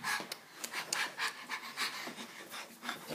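A dog pants rapidly and close by, quick rhythmic breaths continuing steadily with light rubbing noises, no talking over it.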